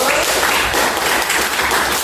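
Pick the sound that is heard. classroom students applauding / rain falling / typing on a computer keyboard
classroom students applauding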